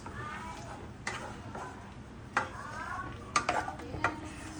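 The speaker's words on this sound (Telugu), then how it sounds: "ఇప్పుడు కొంచెం కలుపుకుందాం ఫ్రెండ్స్" A utensil stirs green chillies in a pan, giving sparse scraping clicks and taps against the metal over a faint sizzle, close and fairly quiet.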